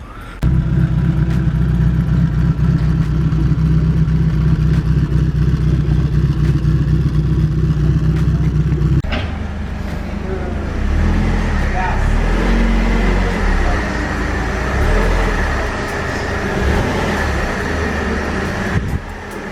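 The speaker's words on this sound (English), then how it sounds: "And right now, I'm gonna take the CSX for a drive." A nitrous-equipped CSX car drones with a steady low engine note, then switches to rougher, broader driving rumble partway through, with people talking over it.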